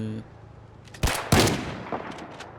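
Shotgun blasts in the Project Zomboid video game, two loud booming shots about a quarter second apart, each trailing off into a short decaying echo.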